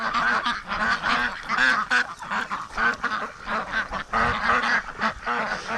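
Ducks quack repeatedly and noisily close by, a choppy overlapping chorus of honking calls with brief pauses.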